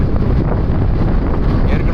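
Strong wind buffets the microphone in a loud, continuous roar that barely varies over the brief stretch, covering everything else.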